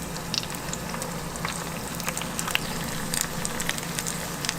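Corned beef lumpia frying in hot oil, a steady crackling sizzle with scattered pops and spatters, close and continuous.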